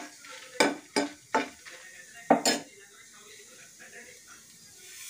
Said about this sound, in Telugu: ఎండుమిర్చి కొంచెం వేగిన తర్వాత ధనియాలు వేసి వేయించాలి.